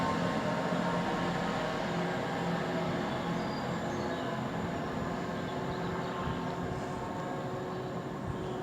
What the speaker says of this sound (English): the train is now departing for Red Hill.